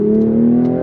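Steady, close engine drone from a turbocharged straight-six in a 2026 Toyota Supra Mk5 Final Edition, a strong even hum with low harmonics holding through a slow U-turn, no talk.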